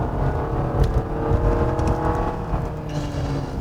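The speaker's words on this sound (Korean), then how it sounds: "엔진 사운드" Engine of a Nissan Murano hybrid with a CVT driven in manual mode, a steady low drone with mild rising and falling revs heard from inside the cabin, with no talking.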